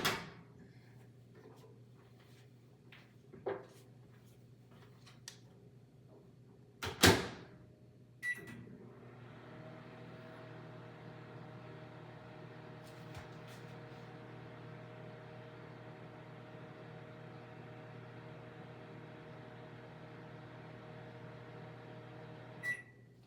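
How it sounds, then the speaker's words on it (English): A microwave oven warms butter to soften it: a few clicks and a door thud, then a beep and a steady low electrical hum that runs quietly for about fifteen seconds and ends in a beep. "I'm gonna pop these in the microwave just for about 10 seconds"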